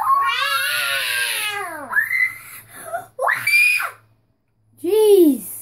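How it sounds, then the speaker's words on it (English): A woman lets out loud, high-pitched screams in several separate bursts with short pauses between them, heard alone with no other talk. "Don't scream like that."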